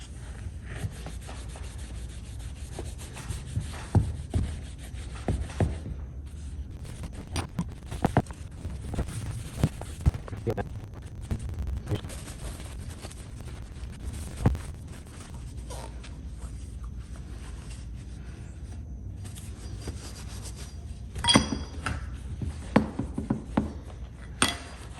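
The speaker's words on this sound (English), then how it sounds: "This is actually harder to polish than I thought. There's a lot of lines on this drill." Rubbing and polishing on the metal body of a vintage Cummins Model 336 drill, a continuous rough scrubbing with irregular strokes and occasional knocks, close and moderately loud throughout.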